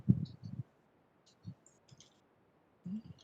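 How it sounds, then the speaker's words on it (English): Sparse clicks and soft thuds from typing on a computer keyboard, in a few short bursts separated by quiet gaps, close and fairly faint. "The way I'm typing, sorry."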